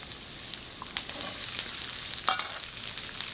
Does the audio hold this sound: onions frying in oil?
yes